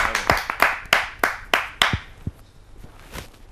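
Several sharp, evenly spaced claps ring out near and clear at a Hindi poetry gathering, a handful of hands answering an invitation, then thinning to scattered faint claps.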